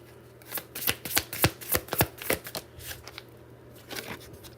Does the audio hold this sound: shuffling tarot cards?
yes